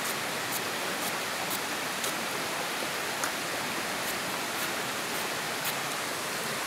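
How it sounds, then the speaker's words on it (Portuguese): Waterfall carrying lots of water beside a creek, a steady, loud, broadband roar with no pauses, faint brief ticks and splashes on top, and no voices. "Muita água na cachoeira, né, Zé?"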